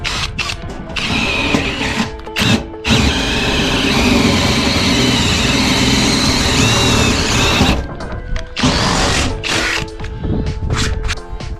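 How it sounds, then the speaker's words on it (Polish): A power drill with a larger bit whirs loudly and steadily for several seconds, with shorter bursts of drilling before and after the long run. "teraz większym wiertłem."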